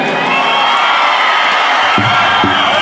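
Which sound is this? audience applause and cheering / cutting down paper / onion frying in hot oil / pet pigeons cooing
audience applause and cheering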